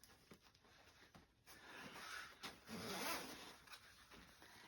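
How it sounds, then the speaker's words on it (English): A boat cockpit cushion cover zipper is pulled open with a soft rasping rub, close and quiet, in a couple of slow strokes with brief pauses. "what you need to do is just open your zipper"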